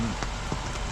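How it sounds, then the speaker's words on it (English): Rain falls on a tent in a dense, steady patter close overhead, a short continuous wash of drops on a cold rainy day. "Nice cold rainy day today."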